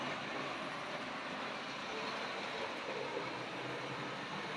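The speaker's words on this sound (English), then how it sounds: "It's nice to have a train that hasn't got to be full speed to go" A Tri-ang Railways model train set runs along its track at a gentle pace, giving a faint, steady whirring rumble throughout with no pauses.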